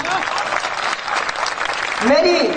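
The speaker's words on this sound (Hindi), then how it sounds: "आपकी तालियां मुझ तक पहुंची" Audience applause at a Hindi kavi sammelan poetry recital, a dense wash of clapping filling the hall, swelling slightly near the end as a voice rises over it.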